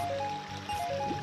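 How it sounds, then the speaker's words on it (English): In Zelda: Ocarina of Time, Link swims down Zora's River. Steady rushing, trickling water is heard close up, with brief splashy gurgles and a faint melodic game tone running underneath. "Once in Zora's River, I dodge the Octorok shot and proceed down the river, mashing B to swim faster."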